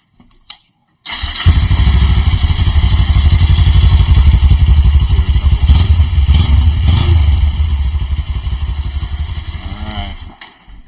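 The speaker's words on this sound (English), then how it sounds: "that's the stock exhaust" A 2023 Kawasaki Ninja 400 on its stock exhaust starts after a brief click, then idles loudly and steadily up close with a few throttle blips before shutting off near the end.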